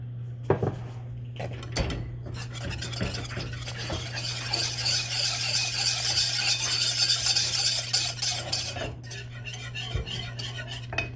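A wire whisk scrapes and clatters steadily around a pot of Texas sheet cake frosting with the heat switched off, a busy metallic stirring that runs continuously under a low steady hum, with a few sharper knocks near the start and end.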